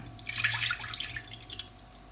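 Water splashes and trickles briefly into a frying pan while cooking chicken, a soft rushing pour lasting a moment before tapering off to faint drips.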